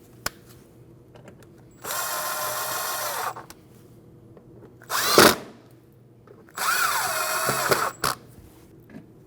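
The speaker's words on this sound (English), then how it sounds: "Tighten those 3 Phillips screws." Power drill driving Phillips screws into a front inner fender liner on a 2012-2016 Honda CR-V, heard as two steady whirring bursts of about two seconds each, close and loud, with a short rattle between them and brief clicks.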